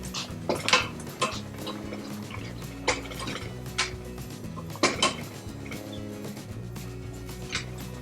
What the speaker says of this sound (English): I'm gonna throw in some fresh garlic, about 2 teaspoonsful.